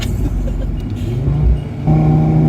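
A Toyota MK5 Supra engine revs hard in the mountains, loud and close, the note climbing and then jumping to a higher rev near the end.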